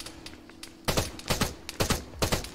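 Artillery rounds slam down nearby in an AI-driven military video game: a string of sharp, loud impacts in uneven bursts, some doubled, standing out over quieter background crackle.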